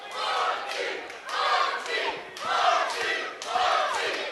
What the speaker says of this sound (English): crowd of supporters that have opened up.